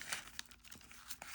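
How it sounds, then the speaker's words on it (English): Paper sticker sheet torn out of a chunky paper planner, giving quiet crinkling and ripping rustles in a few short bursts, close and soft with no talking. "I'm just ripping it at this point"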